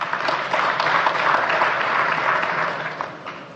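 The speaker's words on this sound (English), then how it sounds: "A round of applause for him." An audience at a Nigerian public event gives a warm round of applause, a dense, steady patter of clapping hands that swells and then tapers off over a few seconds.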